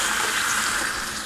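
Water poured from a jar into a cooking pan for chicken tikka masala makes a steady, close rushing splash that lasts the whole moment, with no voices.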